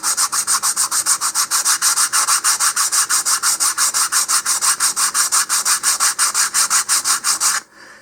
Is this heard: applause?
no